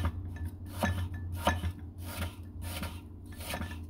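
A knife finely chops apple on a cutting board, a series of soft, quick scraping cuts in an uneven rhythm, close but quiet, with no talking.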